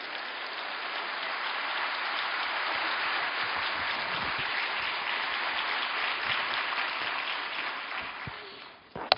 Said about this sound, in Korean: 박수로 축복하며 환영하시겠습니다